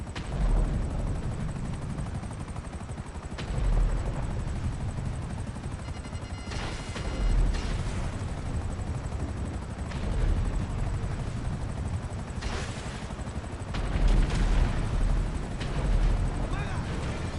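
A helicopter flies in GTA V Online, its steady rotor drone mixed with bursts of gunfire and explosions, while a person talks over it.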